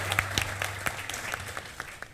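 A studio audience at The Kapil Sharma Show breaks into brief scattered applause, a short burst of clapping that quickly thins out.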